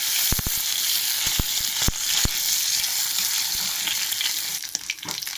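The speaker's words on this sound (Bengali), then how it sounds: "তো এক এক করে আমি সব একটু মাছ ভাজবো" Fish and prawns frying in hot oil in a home kitchen: a loud, steady sizzle with a few sharp spatters and clicks near the start, close and without any voices.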